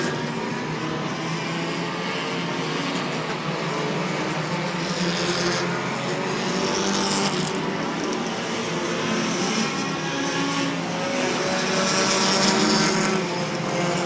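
Stock cars race around a short oval track, their engines blending into a loud, continuous roar that swells and fades slightly as the pack passes, with no break in the noise.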